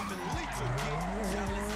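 Bentley drifting in GTA Online, tires squealing in long wavering howls over a steady engine roar, loud and close, with voices talking over it.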